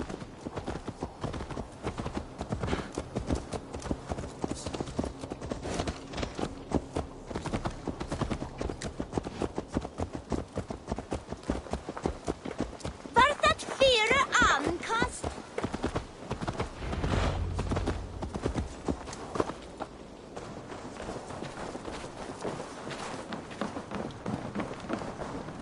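Horse hooves clip-clop steadily in Assassin's Creed Valhalla, a rapid, regular drumming of a ridden horse that runs on for most of the stretch, with a brief neigh and shifting game ambience partway through.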